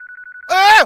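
A phone call ringing in the video game Yakuza 4: a short run of rapid, evenly pulsed electronic beeps, close and clear, abruptly cut off by a loud tonal groan-like sound.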